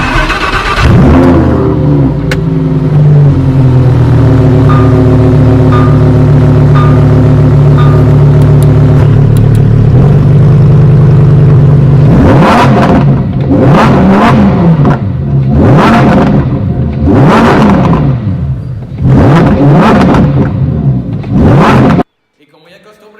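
A Lamborghini Reventón engine idles steadily at close range, then revs hard in a series of sharp, rising and falling bursts before cutting off abruptly.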